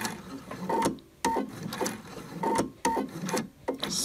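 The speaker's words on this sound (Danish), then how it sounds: "Og så kører jeg rundt i lommeposen." A sewing machine stitches around the pocket bag of a long shawl-collar vest, its motor whirring in short runs broken by sharp clicks and brief pauses as the fabric is turned, close and moderately loud.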